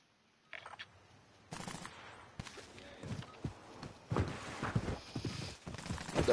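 Three-line rifle fire in Warzone on the Caldera map, with scattered sharp shots and impacts amid game noise and footsteps, growing louder toward the end.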